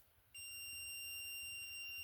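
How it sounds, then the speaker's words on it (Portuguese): A multimeter's continuity beep, a steady, high-pitched electronic tone, switches on abruptly and holds continuously, clear and close against a quiet background. "Vou colocar aqui o multímetro na escala de BIP"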